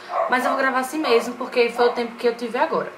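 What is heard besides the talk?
dogs barking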